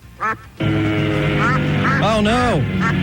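Ducks quack at the Deming duck race in New Mexico, a run of nasal, harmonic calls close by and loud, with voices talking over them.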